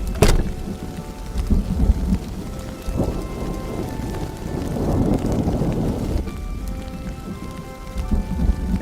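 Heavy rain pours steadily through a stormy night in a forest, with rumbling thunder rolling beneath it and no voices.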